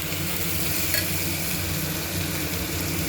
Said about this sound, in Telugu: బఠానీ అంతా మిక్స్ చేసుకోండి